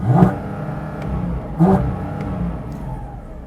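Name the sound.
Porsche 718 Cayman GT4 RS engine revving against limiter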